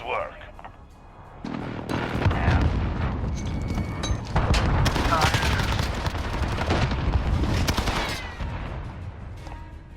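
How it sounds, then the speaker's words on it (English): Friendly precision airstrike in the Modern Warfare multiplayer video game: a sustained, loud barrage of overlapping explosions and heavy gunfire rumbling for several seconds, then easing off, with a voice talking over it. "Friendly precision airstrike on the way."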